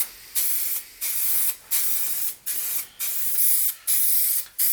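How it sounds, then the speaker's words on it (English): Spray paint can hissing in seven short, even bursts with brief gaps between, close and steady, applying a coat to Jaguar XJ6 cam covers. "Keep the can at a pretty even distance to what you're painting"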